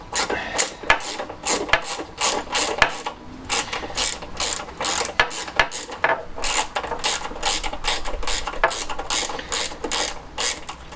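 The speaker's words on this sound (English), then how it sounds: "So just going to get our 10 ratchet, put it in here" A 10 mm ratchet clicks steadily in fast repeated strokes while loosening nuts on a classic Fiat 500 (126) engine during removal, the sharp pawl ticks loud and close with brief pauses between bursts.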